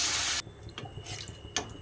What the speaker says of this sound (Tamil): 5 நிமிடம் வதக்கிய பின் தேவையான அளவு தண்ணி சேர்க்கவும்.